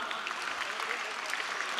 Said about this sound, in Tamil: அவங்களுக்கு ஒரு கைத்தட்டு கொடுத்துடலாம்